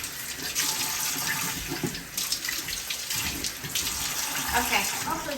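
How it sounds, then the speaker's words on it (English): A bathroom tap runs steadily for a cold face rinse, giving a close, even hiss and splash of water with small shifts in the flow. "And then finish with the cold rinse to close the pores."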